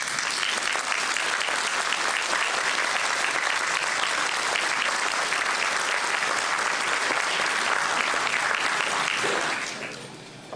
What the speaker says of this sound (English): could we please give our committee members a big round of applause?